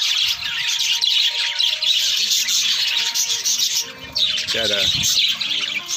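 Pet parakeets squawking and chirping close by, with a dense run of shrill calls throughout and a short burst of human voice near the end.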